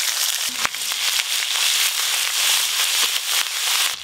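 Ginger paste fries in hot oil in a pan with a loud, dense crackling sizzle that keeps up steadily and has a few sharper pops along the way.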